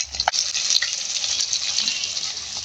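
Pangas fish frying in hot oil in a pan, giving a steady broad sizzle throughout with a few soft clinks of stirring near the start, no talking.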